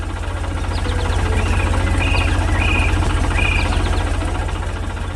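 A red tractor pulling a trailer through a brightly lit barn in a farm animation, its engine idling in a steady low rumble with faint chirping sounds layered over the top.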